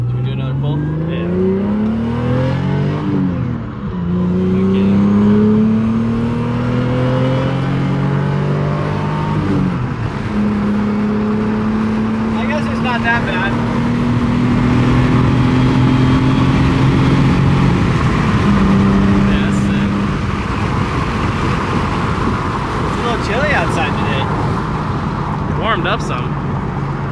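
A Ford F-450 truck accelerates hard during a pull, its loud engine rising steadily in pitch through repeated gear shifts, close and continuous for the whole stretch.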